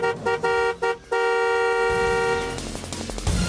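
Several short car horn toots followed by a long sustained honk, loud and close, with a brief traffic rumble at the end.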